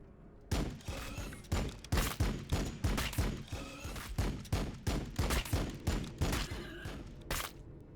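Rapid, overlapping gunfire from units in the Warhammer 40k Battlesector strategy game, with a steady stream of loud shots and blasts crackling one after another across the whole stretch without pause.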